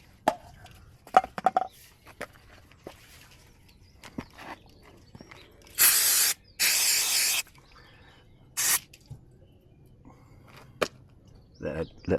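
Brake cleaner sprayed liberally over a caravan tow ball in several hissing bursts, two long and one short, loud and close, with light handling clicks and knocks between them.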